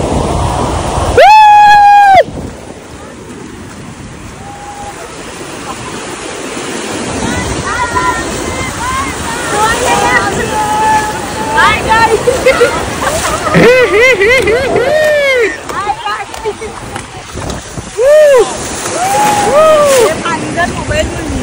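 Sea waves washing in at Ganpatipule beach, a steady surf rush under lively voices and shouts of people heading into the water nearby.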